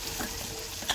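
Shrimp frying in a pan for a Bangladeshi prawn bhuna, giving a steady close sizzle with a brief louder burst of hiss near the end.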